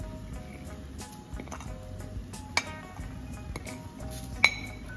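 Ground spices going into a pot of qorma bring sparse metallic clinks and taps of a spoon against the pot, with two sharper pings standing out over a quiet kitchen background.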